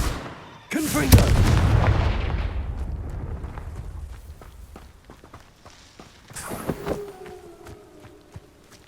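The Confringo explosive spell in the video game Hogwarts Legacy goes off with a sharp, loud blast and a rumbling decay, then quieter impacts and effects follow, with a second smaller burst near the end.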